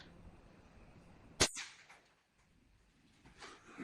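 A modified Nerf blaster firing a dart, one sharp, loud crack-like snap with a brief whoosh trailing after it, set against a quiet room.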